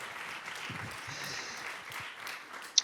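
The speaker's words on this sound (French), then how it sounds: "Écoutez ces applaudissements." Audience applause greeting a marine biologist at an ocean-themed talk, a steady wash of clapping with a low voice murmuring beneath and a sharp click near the end.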